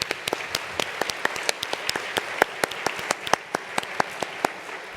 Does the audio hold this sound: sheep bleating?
no